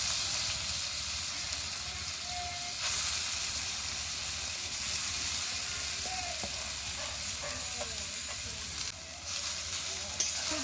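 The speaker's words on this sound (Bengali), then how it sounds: "ঘিটা গরম হয়ে গেছে এবার আলুগুলো দিয়ে ভেজে নেবো" Raw potatoes frying in hot ghee in a kadai for potato payesh, a steady soft sizzle with faint stirring scrapes, close and continuous with no talking.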